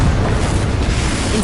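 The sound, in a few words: Confringo explosion spell blast, from video game Hogwarts Legacy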